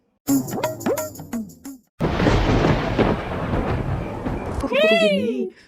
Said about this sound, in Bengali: বাইরে কি সুন্দর বৃষ্টি হচ্ছে